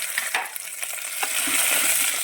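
Cashews, green chillies and onion fry in hot oil for a vegetable biryani, giving a loud, dense crackling sizzle with stirring scrapes, close and continuous.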